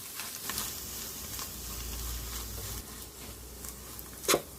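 Grated paneer and mashed boiled potato fry in a pan for palak kofta, a steady low sizzle with faint stirring scrapes and one sharper clink near the end; close and fairly quiet, no talking.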